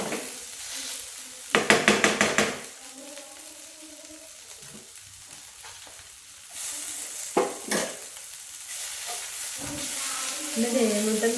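Bitter gourd mezhukkupuratti with black pepper fries in a pan, a soft, steady sizzle punctuated by bursts of spatula scraping and stirring against the pan, with quieter stretches between.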